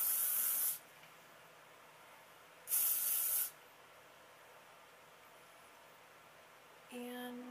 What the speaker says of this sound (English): I'm just going to be using some hairspray.